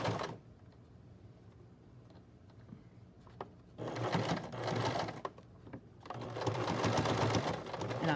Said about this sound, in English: I'm just sewing right along that edge, making sure I'm catching all the fabric I need to catch